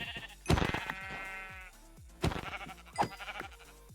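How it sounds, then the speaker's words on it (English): Sheep bleat in the Minecraft video game, several quavering calls in quick succession, loud and close, with a pause between bursts and no talking. "There's sheep everywhere."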